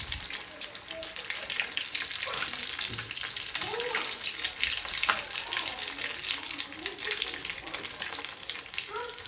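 Steady, dense sizzling and crackling of fish balls frying in hot oil, continuous and close up with no pauses.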